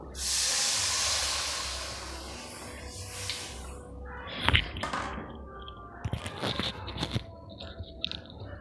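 A loud hiss and sizzle bursts up as coconut milk hits a hot pan while making egg curry, then fades into softer bubbling with scattered crackles and clinks.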